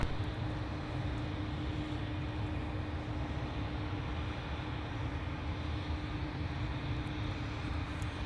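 A heavy airliner takes off at Minneapolis–Saint Paul airport as a steady, broad, distant jet roar with a faint tonal hum, unbroken and without voices.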